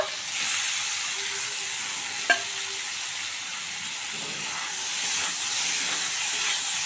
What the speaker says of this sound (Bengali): এবার সেদ্ধ করা মাশরুমটা দিয়ে দেব